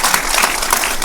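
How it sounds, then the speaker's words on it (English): Loud, dense applause from a large audience at a panel quiz event, a continuous close wash of clapping with no break. "Please give me a round of applause"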